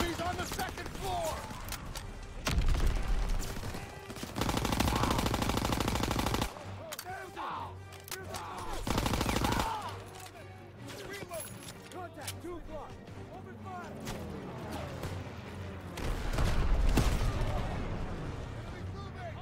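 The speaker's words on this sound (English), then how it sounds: "Cover fire from the left!" Call of Duty: WWII battlefield gunfire: repeated machine-gun bursts and rifle shots in heavy spells, some loud and close, others farther off, with shouted voices between them.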